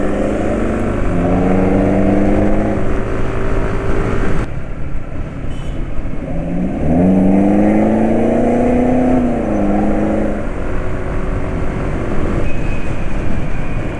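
A Vespa scooter engine drones loudly and roughly with rising and falling pitch as it revs, a rough whine climbing twice with a short lull between.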